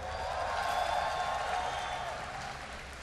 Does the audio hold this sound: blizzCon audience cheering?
yes